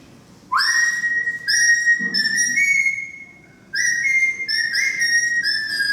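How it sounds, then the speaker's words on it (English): A seven-year-old child whistles a simple tune, clear high sustained notes with brief pauses between phrases, close and prominent over a quiet background. "Listen to that kid whistle."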